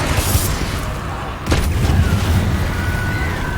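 Confringo and Bombarda spell explosions in Hogwarts Legacy ring through a busy, noisy fight, with one sharp blast midway followed by a heavier, booming rumble.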